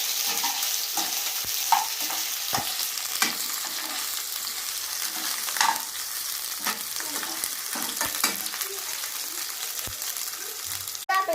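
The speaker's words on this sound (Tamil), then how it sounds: "நல்லா கோல்டன் ப்ரௌன் கலர் வர வரைக்கும் நல்லா ஃப்ரை பண்ணணும்." Onions fry in a pan until golden brown, giving an even, close sizzle broken by repeated stirring scrapes and light clicks.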